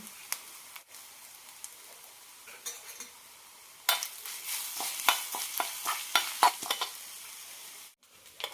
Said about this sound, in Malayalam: ഇനി ഇതിലേക്ക് കടുകും കറിവേപ്പിലയും തേങ്ങയും വറുത്തിടാം.